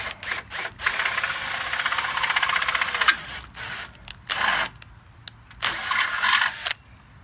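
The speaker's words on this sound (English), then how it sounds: "Drill our second hole." A power drill bores the second hole for a clothesline bracket: a sustained high whine for about two seconds, then several short stop-start bursts and a final longer run, close and loud with no voices.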